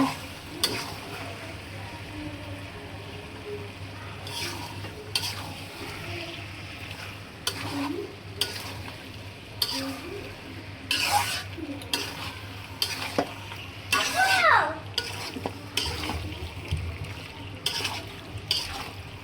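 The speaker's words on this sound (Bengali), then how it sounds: "এখানে মশলা দিয়ে মাংসটা ভালো করে নাড়াচাড়া দিয়ে" Beef stirred with spices in a pan, with a low simmering sizzle under frequent scraping and clattering strokes of a spoon against the pan, close and moderately quiet, with no talking.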